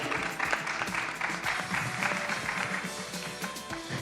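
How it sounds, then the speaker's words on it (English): An audience at a summit breaks into applause, steady clapping with scattered sharper claps filling a large hall for several seconds. "Let's give her a round of applause."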